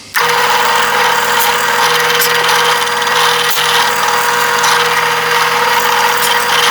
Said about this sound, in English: at the drill press here, I'm going to drill these 3/8 holes here at these points